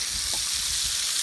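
Sausage sizzling and frying in a pan while cooking outdoors at a campsite, a steady close hiss with faint stirring clatter, no talk.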